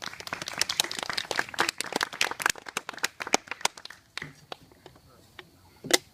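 Audience applause with scattered claps, dense and lively at first, then thinning to sparse individual claps, with voices in the background.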